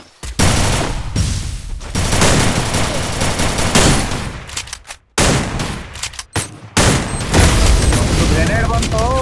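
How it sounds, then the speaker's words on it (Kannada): Loud, close video game combat with a grenade blast and bursts of rapid gunfire, booming explosions breaking through dense continuous shooting, with players talking over the action. "ಗ್ರೆನೇಡ್ ಬಂತು."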